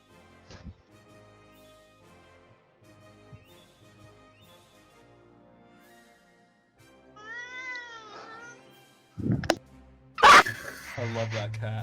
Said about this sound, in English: I love that cat.